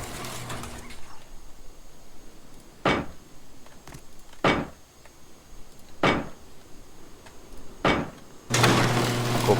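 Base doors in a survival video game opening and closing, four separate sharp mechanical clunks spaced about one to two seconds apart over a quiet background, followed by a louder sustained grinding rumble at the end.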